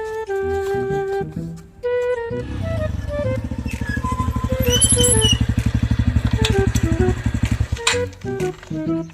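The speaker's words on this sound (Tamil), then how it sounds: "யாரோ பைக்ல வராங்கடா" Motorcycle approaching in a Tamil village comedy scene, its engine putter building into a rapid, loud pulsing throb that stays close, with tonal music playing at start and end.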